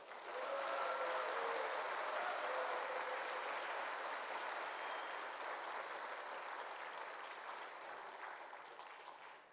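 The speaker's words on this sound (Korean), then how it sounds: "박수 한번 보내주세요" Applause from a church congregation after a testimony, a soft, steady wash of clapping heard from a distance, holding evenly and fading slightly at the end.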